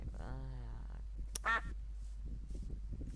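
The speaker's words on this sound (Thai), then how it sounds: "ผมเลยลำคาญจริง ๆ กับเสียงเป็ดเนี่ย" A duck gives a drawn-out nasal quack followed by a short sharp one, nearby, against a low steady hum.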